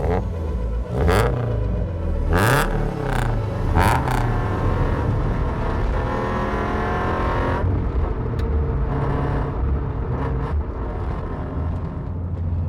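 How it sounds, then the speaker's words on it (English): A Subaru BRZ sports car with a loud aftermarket exhaust rumbles and revs loudly throughout, with a deep, throaty exhaust note and a few sharp pops and creaks, close by and continuous. "I did put a silly exhaust on this car."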